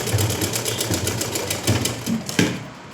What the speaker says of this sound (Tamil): நான் வீடியோக்காக தான் ஸ்லோவாக தைக்கிறேன், இல்லைன்னா நான் பெடல் தான், பவர் கிடையாது.